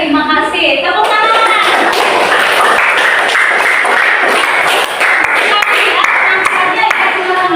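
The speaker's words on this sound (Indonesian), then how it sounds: "Tepuk tangan" Classroom applause from a group of students, a dense, steady wash of hand clapping lasting several seconds, fairly loud and close, with a few voices mixed in.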